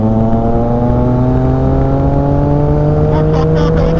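A motorcycle in sixth gear, either a Yamaha R25 or a Kawasaki Z650, accelerates steadily on a highway, its engine droning loud and close as the pitch slowly rises under heavy wind.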